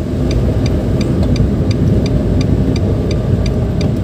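A 2014 Nissan March 1.2 with a manual gearbox, on an open out-of-town road after a wrong gear is selected, giving a loud, steady engine drone and road rumble with a faint regular ticking over it.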